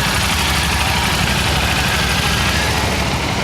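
A 900 motorcycle holds a steady, loud engine drone at constant revs during a riding skills challenge, a continuous close rumble with no rise or fall.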